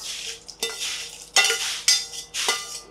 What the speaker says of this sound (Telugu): ఇప్పుడు నేను తాలింపు కలిపేస్తున్నాను